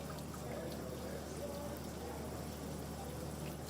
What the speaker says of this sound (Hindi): पानी निकाल रही हूँ अभी तो दाल से।